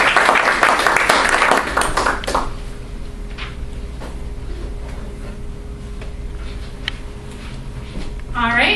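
An audience applauds to welcome a speaker, Alison Cardy, onto the stage at a career talk; dense clapping fills the first two seconds and then fades into quiet room noise, with a brief flurry near the end.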